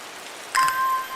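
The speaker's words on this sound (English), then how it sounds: "The rain sound effect is so nice." A short, soft patter of rain plays while plants are watered in the Victorian-era puzzle game Strange Horticulture, with a brief chiming tone at the onset and a steady gentle hiss afterward.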